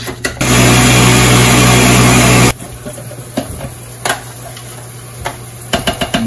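A blender whirs loudly for about two seconds as it mixes a protein ice cream shake, a dense motor hum with a low tonal drone, then cuts out to a quieter room with a few clicks and taps.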